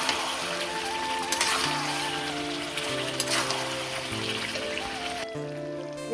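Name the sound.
chicken added to hot oil in a pan, sizzling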